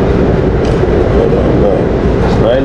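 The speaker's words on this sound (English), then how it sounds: "So we're on the train right now." Passenger train ride heard from inside the car, a loud, steady rumble of wheels and carriage with faint rail squeals toward the end, continuous throughout with no talking.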